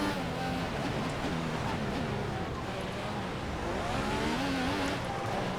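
Ferrari Formula 1 cars race at the Belgian Grand Prix in F1 2014, engine whine rising and falling in continuous harmonic sweeps, loud and close, with a voice speaking over parts of it.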